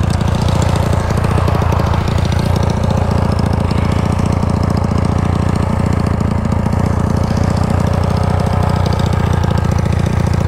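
A Honda Titan 250cc motorcycle engine with its exhaust nut fallen off runs loud and close, a rough, throbbing low-pitched rumble with rapid pulsing, steady throughout without talk.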